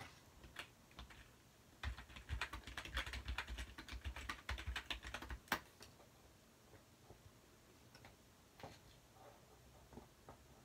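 Rapid bursts of typing on a computer keyboard, dense clicking for several seconds and then sparser scattered keystrokes, close and fairly quiet with no talking.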